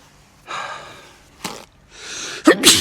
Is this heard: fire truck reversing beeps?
no